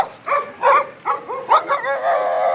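A Coonhound barks and yips in a quick run of bays and whimpering howls, close and loud, with a voice faintly mixed in.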